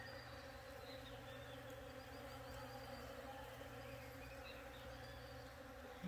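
Steady, dense insect buzzing fills the air, a continuous drone of many bees with no gaps, moderately faint and without any voices.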